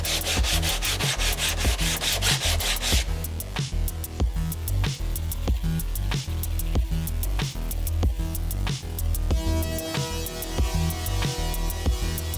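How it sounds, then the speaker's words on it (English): Wooden edges of a flatpack virtual pinball cabinet being smoothed with a sanding block and 120-grit sandpaper, giving steady, rhythmic scratchy strokes, close and loud throughout with no voices. "just get a sanding block and some 120 sandpaper and just smooth that out"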